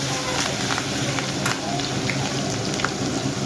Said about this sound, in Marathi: कढीपत्ता टाकल्यानंतर आपण टाकूया लसूण. टाकूया. लसूणला चांगली खरपूस भाजून घेऊ.